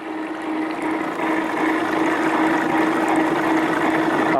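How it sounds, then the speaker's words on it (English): Water rushing steadily through a gold sluice during a demonstration, a continuous close wash with a constant pump-like hum underneath and no talking. "I'm going to cut my water flow down just a little bit"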